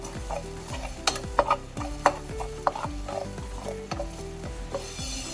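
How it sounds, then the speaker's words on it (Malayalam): Coriander seeds dry roasting in a pan over a high flame, with steady stirring scrapes and faint sizzling crackle, plus a few sharper knocks of the spoon against the pan, all close up and with no talk. "രണ്ട് സ്പൂൺ മല്ലി പച്ചമല്ലി അതും ഇതുപോലെ തന്നെ വറുത്തെടുക്കാം"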